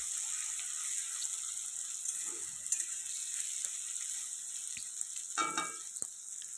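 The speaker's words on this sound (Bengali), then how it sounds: "আলুটা ভেজে তুলে নিয়েছি পেঁয়াজটা ভাজছি" Onions fry in hot oil for a mutton curry with a steady sizzle, broken by a few stirring scrapes and clinks.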